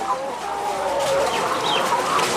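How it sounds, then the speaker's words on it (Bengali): Laying hens in H-type layer cages cluck and murmur continuously at close range, several birds overlapping in a busy, fairly loud chatter. "মুরগিগুলোকে।"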